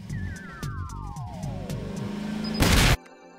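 Car engine in a video game revving through repeated rising and falling pulses with a sweeping whine, ending in a loud, brief roaring burst before cutting out.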